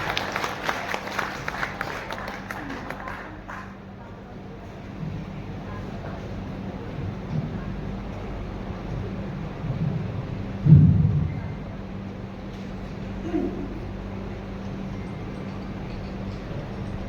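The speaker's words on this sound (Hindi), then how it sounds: "जोरदार तालियों से आप स्वागत करें" Conference audience applauding to welcome a speaker at a youth inspiration and harmony gathering in Delhi, a steady broad clatter of clapping that swells early and then settles into a lower, sustained ovation.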